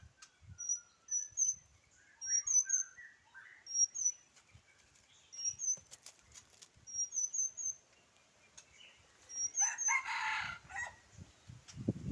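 A rooster crows repeatedly at a distance, with bird chirps and clucks around it and a louder flutter of wings near the end.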